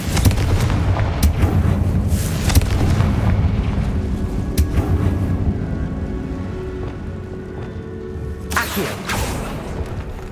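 A Confringo fire spell explodes in the video game Hogwarts Legacy inside a tomb, a loud booming blast with crackling debris rumbling on for seconds, followed by a second sharp burst near the end.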